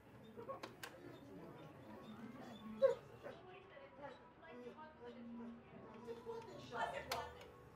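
Dog whimpering in soft, thin whines over a faint murmur of voices, fairly quiet and intermittent.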